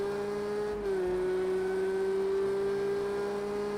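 A race car laps the Hockenheimring in a racing video game. A steady, loud high-pitched engine whine holds near-constant pitch with a brief dip as it brakes, with no voices.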